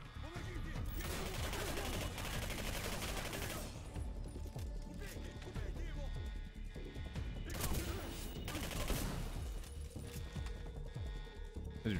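Shotgun blasts and chaotic gunfire from the first-person shooter Singularity, dense bursts of loud shots across the clip with no clear pauses, mixed with other combat noise.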